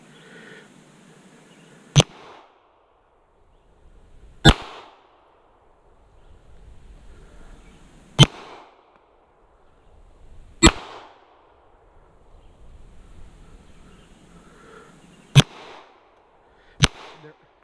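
Six sharp pistol shots from a CZ Shadow 2 fired at a target, spaced a few seconds apart, each a loud crack with a short reverberant tail over a low outdoor background rumble.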